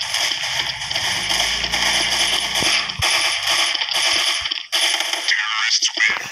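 Rapid gunfire from a first-person shooter video game, Special Force 2, with dense repeated shots and metallic clanks over continuous game sound, loud throughout with only brief gaps.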